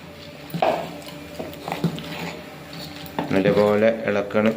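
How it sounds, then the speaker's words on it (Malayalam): Ground coconut paste mixed with sambar powder being stirred into Brahmin-style nadan sambar in a pot, with scattered scrapes and clinks of a spoon against the vessel close by and a voice talking over it. "നമ്മൾ അരച്ച് വെച്ച നാളികേരം, അതായത് നമ്മൾ സാമ്പാർ പൊടിയൊക്കെ കൂട്ടി വെച്ച നാളികേരം നമ്മൾ ഇതിലേക്ക് ഒഴിക്കുകയാണ്. ഒഴിച്ചിട്ട് നല്ലപോലെ നമ്മൾ ഇളക്കുകയാണ്."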